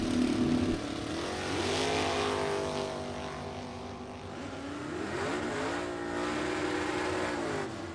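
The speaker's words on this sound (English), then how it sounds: "in that super competitive Buick GS with a 509 big block Chevy under the hood against Jim Sibley" A Buick GS drag car with a 509 big block Chevy races against a Pro Stock car, engines roaring loud and steady with rising and falling revs across the run, no voices.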